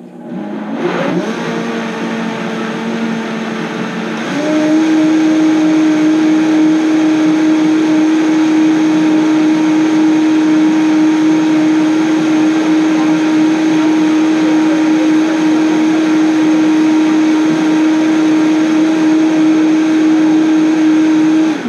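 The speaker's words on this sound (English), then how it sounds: "We're going to blend this a little bit longer." A Vitamix blender blending tofu runs steadily at high speed, a loud continuous motor whine after a short ramp-up, holding a constant pitch throughout with no talking.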